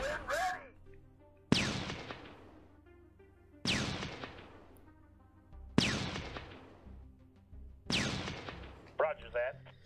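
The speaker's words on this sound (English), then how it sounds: "Bombard these guys." Artillery bombardment in the strategy video game Shadow Empire: four heavy booming blasts spaced about two seconds apart, each with a sharp onset and long rumbling decay, loud and close.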